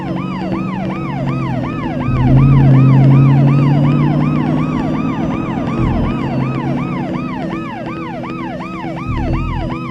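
Loud wailing sirens from police cars and an ambulance cycle rapidly and overlap, close by, with rumbling traffic underneath.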